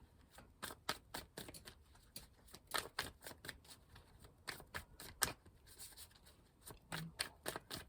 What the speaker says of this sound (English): I'll cut the deck for the Celtic cross